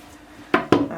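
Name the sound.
knife cutting cold process soap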